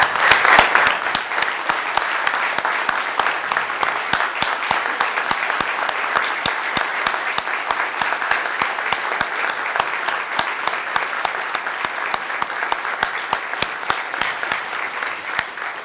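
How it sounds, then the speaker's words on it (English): A standing ovation at a breakfast speaker series, a long, loud, sustained round of applause from a large crowd, steady throughout with scattered sharp claps and no speech. "give a round of applause"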